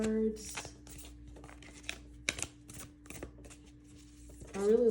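Angels and Ancestors Oracle cards being shuffled by hand, a run of soft papery riffles and slaps close up, with a steady faint hum and a voice talking briefly at the start and end.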